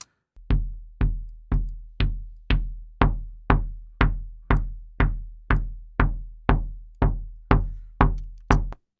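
Kick drum picked up by a beater microphone with boosted EQ that brings out low-mid and upper-mid knock, about fifteen loud, evenly spaced solo hits, each a sharp thump with a short decaying tail.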